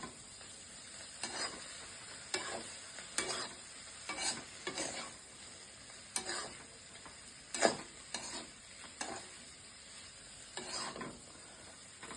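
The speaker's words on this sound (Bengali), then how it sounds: "চাউমিনটা ভাজা ভাজা হচ্ছে।" Chow mein sizzling in a pan at home, a soft continuous fry punctuated by repeated clicking scrapes as the noodles are tossed and stirred, close and fairly quiet with no talking.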